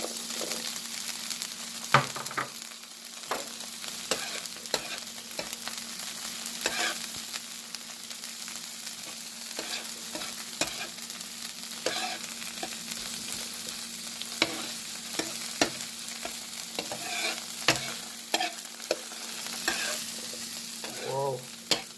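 Mixed vegetables fry for fried rice on an outdoor grill with jerk chicken, a steady close sizzle running throughout, broken by frequent scraping and stirring clicks of a utensil against the pan.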